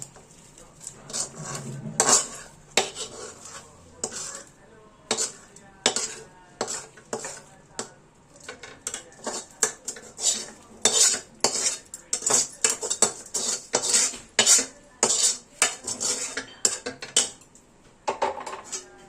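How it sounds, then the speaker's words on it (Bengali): Spiced fried rice and lentils for khichuri are stirred into hot water in a pot, the ladle clanking and scraping against the metal in rapid, loud, irregular strokes that continue without pause. "ঢেলে আমরা ঠিক এই পর্যায়ে নাড়িয়ে নেবো"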